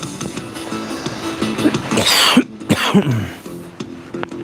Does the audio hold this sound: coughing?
yes